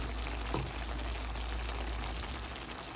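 Steady, soft sizzling of liver stewing in a pan with Greek yogurt, a continuous low bubbling hiss with no voices.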